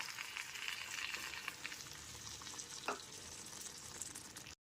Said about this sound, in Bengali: এরপর এর মধ্যে হাফ বাটি পরিমাণ গরম জল দিয়ে দিচ্ছি